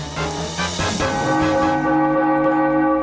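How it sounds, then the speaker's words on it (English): A church bell tower in the video game Ruina tolls once with a sharp strike, then leaves long ringing overtones that hum and slowly fade, rich and resonant, with no voices. "Just then, the sounds of the bell tower rang in the distance."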